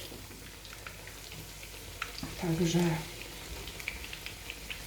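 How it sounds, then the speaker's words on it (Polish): Potato pancakes frying in oil in a pan give a steady, soft crackling sizzle close by, with a brief louder burst in the middle as a voice talks over it. "chyba je sobie już tak lekko poruszam podczas smażenia"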